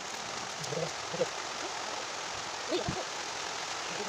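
Steady rain falling in a broad, even hiss, with a brief voice exclaiming faintly over it.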